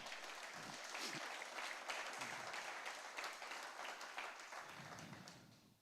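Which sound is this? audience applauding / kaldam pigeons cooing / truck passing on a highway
audience applauding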